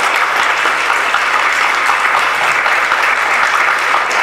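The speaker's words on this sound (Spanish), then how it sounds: "pide un aplauso para él" An audience at a municipal reading event applauds loudly and continuously, a dense wash of many hands clapping close by with no pauses.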